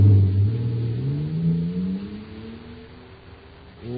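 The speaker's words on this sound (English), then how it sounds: "Listen to that fire-controlled jet car go now." Engine of a supercharged jet car in an old radio sound effect, a low revving drone that rises in pitch, fades and then surges again at the end.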